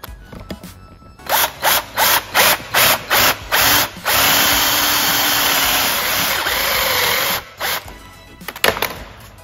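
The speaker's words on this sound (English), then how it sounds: "So just using a spade drill," A power drill fitted with a spade bit starts in a run of short, evenly spaced bursts, then whirs loudly and continuously for several seconds while boring through wood inside a shipping container, before winding down with a couple of brief pulses.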